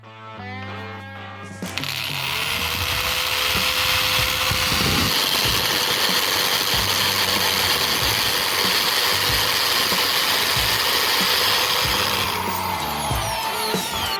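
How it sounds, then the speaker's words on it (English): A hammer drill starts up and grinds steadily for about ten seconds, drilling a screw hole to a marked depth for a hardwood lumber rack, loud and close, then winds down. "Okay, we grab hammer drill"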